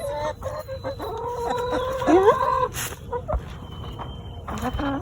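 Backyard chickens in a chicken run cluck and squawk loudly in rising, excited calls with a crowing note, close to the microphone, while a person briefly speaks over them.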